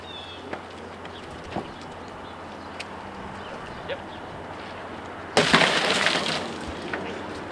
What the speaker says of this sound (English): It's safety glass where you just punch a small area with a sharp object and it'll just shatter